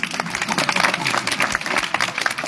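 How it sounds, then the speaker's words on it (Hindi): Audience applause at a Shrimad Bhagavat katha, a Hindu devotional storytelling gathering: dense, sustained clapping from a crowd, fairly loud and steady throughout, with some voices mixed in. "एक बार तालियां आप लोग अपने लिए बजा लीजिए।"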